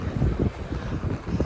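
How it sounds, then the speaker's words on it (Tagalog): Wind buffets an outdoor microphone on a street walk near Tsutenkaku Tower in Osaka, a low, rumbling gusty roar that pulses unevenly across the short stretch with no talking. "Ang hangin."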